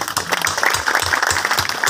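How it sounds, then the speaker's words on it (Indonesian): A church congregation at a groundbreaking ceremony for a new church building applauds, with dense, steady clapping sustained throughout and no voices over it. "Tepuk tangan karena saudara dan saya masih hidup"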